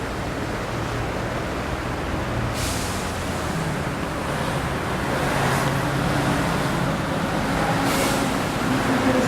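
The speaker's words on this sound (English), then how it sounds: "It's a little surreal when you see all the cars driving by it" Steady traffic noise from cars driving by on a city street at night, a continuous roadway wash with a few louder passes swelling through, heard close by without talk.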